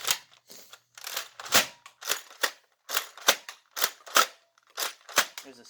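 Nerf Zombie Strike Doominator blaster firing foam darts, a rapid series of sharp snapping pops in uneven bursts with short gaps between shots, close to the microphone and standing alone.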